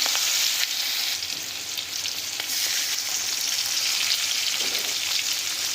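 Chopped onion hits hot mustard oil already tempered with nigella seeds and green chillies, the base for a chela fish curry. It makes a steady, close, loud sizzle with a faint crackle that stays even for the whole stretch.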